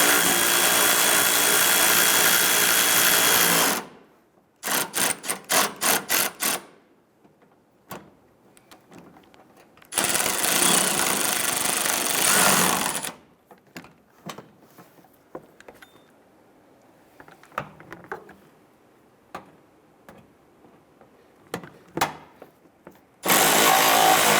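A power tool snugs down bumper bolts on a 2005-2010 Chrysler 300: loud bursts of whirring and rattling impacts separated by quieter gaps with small handling clatter, close and with no talking.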